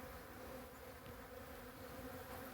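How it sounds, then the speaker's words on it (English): Honey bees swarming over harvested honeycombs to clean them out, a steady close buzzing hum from many insects, continuous and fairly soft, with no talking. "the bees are going to take this all back in"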